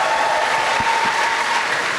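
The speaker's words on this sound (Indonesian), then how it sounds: "sekali lagi kita berikan aplaus untuk Alvin" A studio audience on an Indonesian talk show applauds a guest named Alvin, its clapping dense, loud and sustained for the full two seconds.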